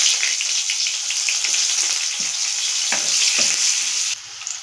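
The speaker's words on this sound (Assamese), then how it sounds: "পিঁয়াজখিনি সিজিছে ধুনীয়াকৈ ৰঙা হৈ গৈছে" Chopped onions with a pinch of five-spice frying in a pan for a fish curry, a close, steady sizzle with occasional stirring scrapes, loud and continuous until it drops slightly near the end.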